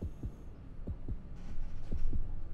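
A heartbeat thumps in the underwater shark game Depth, with low paired thuds repeating at a steady pace over a faint hum and growing slightly louder, with no talking.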